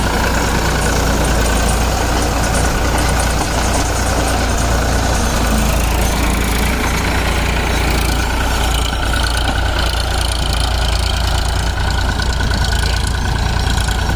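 Powertrac Euro 47 tractor running while baling outdoors, a continuous loud engine drone with a steady low rumble and broadband mechanical noise, no breaks and no voices.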